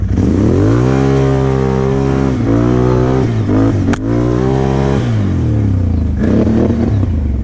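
A used Polaris quad ATV on bald tyres pulls away from a standing start, its engine revving loud and close in rising and falling sweeps over about seven seconds, with a sharp clack midway and continuous mechanical clatter.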